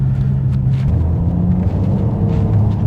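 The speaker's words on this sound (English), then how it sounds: "We are getting some tire noise within the vehicle as I'm driving on pavement." Steady low road roar and tire hum inside a Mercedes-AMG CLS53 cruising on pavement, a continuous dense rumble with no voices.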